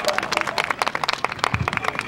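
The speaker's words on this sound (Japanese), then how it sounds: "もう一度盛大な拍手をお願いいたします" An audience applauding at an outdoor local idol event after a group's stage performance, brisk scattered clapping from a modest crowd, fairly close, with no talk over it.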